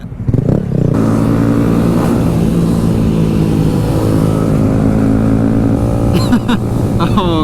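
A Yamaha WR250 and a Honda Grom motorcycle ridden together: loud, close engine drone with a buzzy revving tone sustained throughout, rising and shifting pitch, with wind buffeting and brief clattering near the end.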